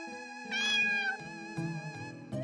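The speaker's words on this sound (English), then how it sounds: "we can see this little cat" A cat meows in the video game Shrink High, one drawn-out, fairly loud harmonic meow followed by shorter, softer mews, heard alone without talk.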